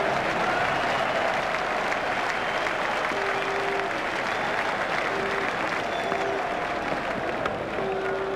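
Cricket crowd at an England versus New Zealand Test match applauding a well-struck shot, a steady wash of clapping that carries on for several seconds, distant and even.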